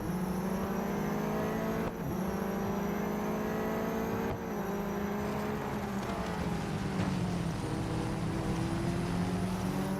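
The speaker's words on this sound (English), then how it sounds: "Now this car is weird, it just feels so slow on acceleration." Car engine in the Real Racing 3 mobile racing game, a steady droning whine with harmonic pitch that rises slowly under acceleration, loud and continuous for the whole stretch with no talk.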